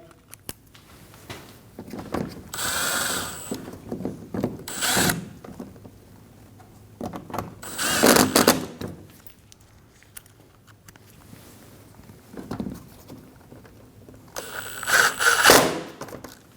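Headlight screws driven up through a Volkswagen Passat bumper with a power driver, several short whirring bursts of a few seconds each separated by quiet gaps, close and fairly clear.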